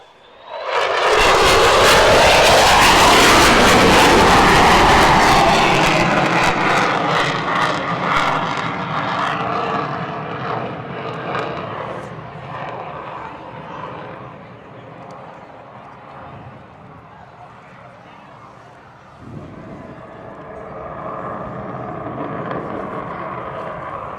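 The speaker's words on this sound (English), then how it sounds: "the F-35 is it sounds like it's tearing the sky apart" An F-35 fighter jet roars past with a huge, tearing engine blast that builds quickly and peaks early, then slowly fades into a distant rumble, with a brief swell near the end.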